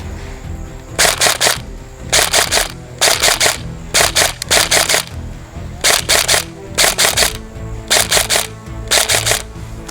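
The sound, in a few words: Bolt B4A1 SOPMOD airsoft gun firing with recoil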